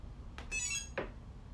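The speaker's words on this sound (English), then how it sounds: "there's the initial 3 beeps" A Castle Creations electronic speed controller gives its startup beeps: short, quiet electronic tones, one closely followed by another and then a third after a pause, over faint background hiss.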